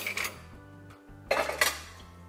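Cutlery clatters into a dishwasher rack in two short bursts of metallic rattling, separated by a brief pause, nearby and moderately loud.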